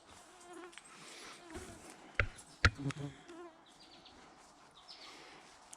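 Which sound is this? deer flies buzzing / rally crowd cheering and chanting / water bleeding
deer flies buzzing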